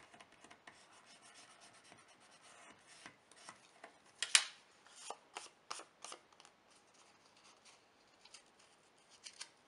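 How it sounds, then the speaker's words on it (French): An eraser rubs across paper while a winter junk journal is being made, quick soft scrubbing strokes in short irregular bursts, close and faint, with no talking. "Je le gomme."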